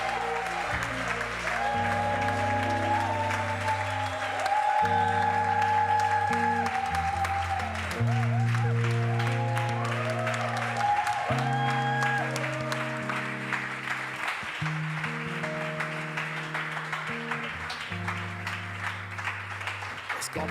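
Church congregation applauding steadily throughout, with sustained crowd clapping layered under loud worship music with held keyboard or organ chords.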